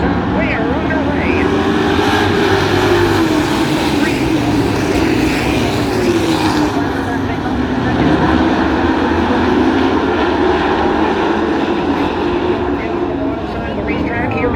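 Pro trucks roaring away on a green-flag restart at Hudson Speedway, a dense, steady engine drone with rising and falling pitch across the field, heard alongside continuous announcer talk throughout.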